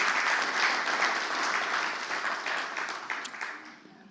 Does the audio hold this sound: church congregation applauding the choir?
yes